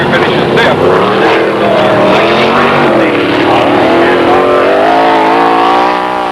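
Stock cars roar around a dirt speedway track in a 1983 race at Midwest Speedway in Lincoln, Nebraska, a loud dense engine drone with rising and falling revs, while an announcer talks over it on the public address.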